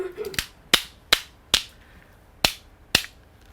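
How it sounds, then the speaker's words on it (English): A traditional Acjachemen clapping stick cracks out six sharp, dry wooden clacks at uneven intervals, close and crisp, each strike ringing briefly, with no voices. "I haven't done a song with the clapping stick yet."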